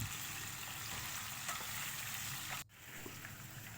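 Pieces of mutton frying in hot oil for a Kashmiri yakhni mutton karahi, a continuous soft sizzle with a brief dip before it resumes, faint and steady, no voices.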